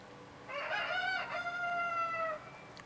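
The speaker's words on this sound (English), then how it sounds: "I think that is the same rooster sound that they had back in Ocarina of Time" A rooster crows once in The Legend of Zelda: Tears of the Kingdom, a clear, drawn-out cock-a-doodle-doo rising and then tailing off over about two seconds, fairly close and alone.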